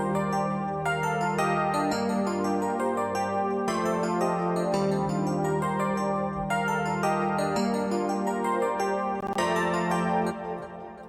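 Electric piano chords from an MK80 Rhodes patch, washed in reverb and echo, play a rising melodic progression with passing notes over a sustained low bass, steady and full throughout with no talking.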